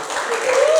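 Audience applause in a church during a sermon, a dense steady wash of clapping lasting under a second, with a faint voice or tone running underneath.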